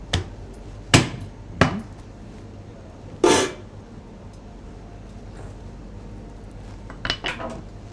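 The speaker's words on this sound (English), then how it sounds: "You're going to trim the steak." A knife trims hard, waxy fat from a dry-aged Florentine steak on a restaurant cutting board, making a few sharp clicks and scraping knocks spread across a quiet, low kitchen hum, with gaps of near-silence in between.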